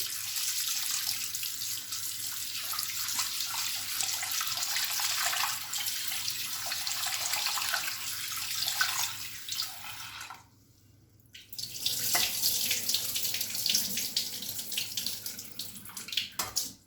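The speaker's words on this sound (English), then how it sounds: "Wash the rice thoroughly." Tap water runs into a container as rice is washed by hand, a steady close splashing and hiss that briefly stops, then resumes with sloshing for the rest of the stretch.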